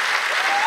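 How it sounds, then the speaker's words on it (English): Brief burst of dense audience applause at a conference closing keynote, steady and fairly loud across the moment, honoring an event co-chair. "give her a well-deserved round of applause"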